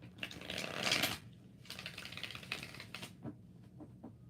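A deck of tarot cards is shuffled close up, with soft riffling bursts separated by short pauses and a few light taps at the end.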